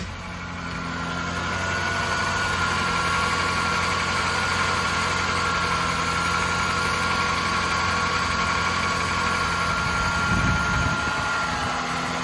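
A Lexus SC430 V8 idles steadily after starting, a smooth low hum that settles in within the first second and stays even and close, with a brief rustle near the end.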